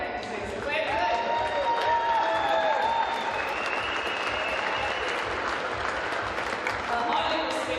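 Crowd applause and cheering fill a basketball arena during a Tauranga Whai versus Wellington Saints game, steady and broad for the whole stretch, with a voice talking over it and a few squeaks and whistles.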